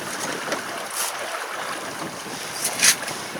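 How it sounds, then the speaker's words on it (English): Wind gusts rush across a sailboat at sea, a steady airy roar buffeting the microphone with a few sharper gusts and faint water wash beneath, no voices. "the wind is picking up"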